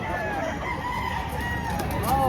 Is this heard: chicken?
yes